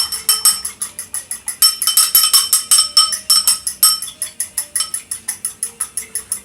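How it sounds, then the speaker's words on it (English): A whisk beats food in a bowl in a steady, fast clinking rhythm that keeps going throughout, close and fairly loud, with no talking. "whisk that up."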